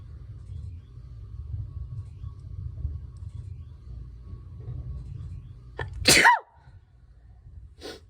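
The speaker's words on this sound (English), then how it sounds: "I gotta sneeze." A single loud, sharp sneeze bursts out close to the microphone after a stretch of low background rumble, followed by quiet.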